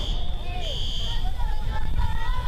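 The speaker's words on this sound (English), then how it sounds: "Some kind of alarm going off." A fire alarm at a high school varsity football game sounds as a steady, piercing electronic tone, continuous and loud over crowd noise and murmur.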